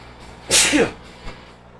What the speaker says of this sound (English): I got a sneeze coming on here.